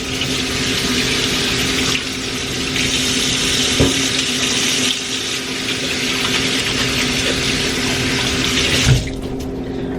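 Carrots rinsed under a kitchen tap, a steady loud stream of running water splashing into a sink for the whole stretch, with a brief clunk near the end as the flow changes.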